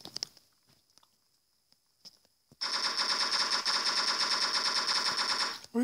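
Machine gun fire in the Block Strike video game: a sustained rapid automatic burst, loud and close, begins after a near-silent stretch with a few faint taps and runs continuously to the end.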